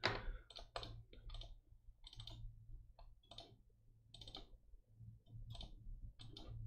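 Loud computer mouse clicks sound close to a microphone during a livestream, arriving as sharp irregular clicks in quick bursts over a steady low hum, with no talking.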